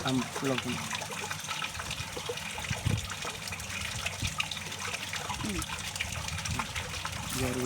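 About 60 ml of liquid poured into a container, heard as a soft, uneven trickle and gush that runs throughout, fairly faint, with voices talking nearby.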